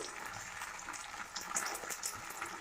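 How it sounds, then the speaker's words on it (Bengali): Potatoes frying in a pan, a faint, even sizzle of hot oil heard close up and continuous throughout, with no voices. "এদিকে আলু ভাজা বসিয়ে দিয়েছি, আলুটা ভেজে নিই"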